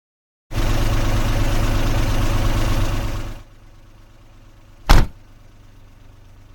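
A police car's engine idles loudly and steadily for about three seconds in a visual novel game, then cuts to a quiet low rumble, with one short sharp burst near the end.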